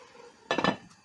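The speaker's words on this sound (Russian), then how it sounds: "уменьшали и закрываем крышкой" A metal lid drops onto a pot of Uzbek Navoi-style plov with a short, bright clatter and clink that rings briefly before fading into quiet kitchen background.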